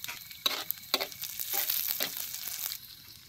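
Chillies dropped into garlic and cumin frying in a pan over a village wood-fired stove sizzle softly, with a few sharp bursts and stirring scrapes before settling into a steady crackle.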